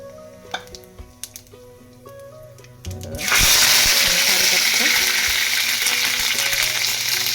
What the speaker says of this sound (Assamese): এয়া তেলখিনি গৰম হৈ গ'ল। ইয়াতে মই জিৰা কেইটামান দি দিছোঁ আৰু শুকান জলকীয়া দুটা